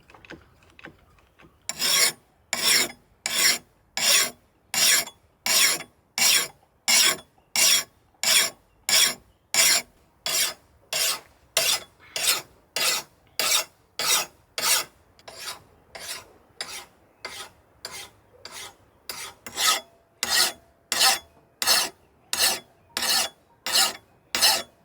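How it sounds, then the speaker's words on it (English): A hand file rasps rhythmically along the curved edge of an old axe blade, roughly thirty evenly spaced gritty strokes in steady back-and-forth succession, close and moderately loud, with no talking. "sharpening an axe is a art form and skill set all in of itself"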